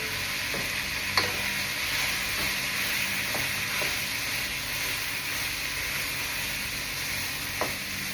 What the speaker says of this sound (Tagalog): Karon ilunod na nako ni ang bahaw.